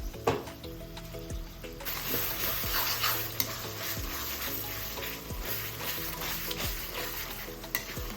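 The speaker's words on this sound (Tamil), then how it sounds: "தக்காளி எல்லாம் இப்படி நல்லா மசிச்சு விட்டுருங்க" Tomatoes being stirred and mashed in a pan for a coriander baby fish curry, with a steady soft sizzle and repeated scraping strokes of a spoon against the pan, close and fairly quiet.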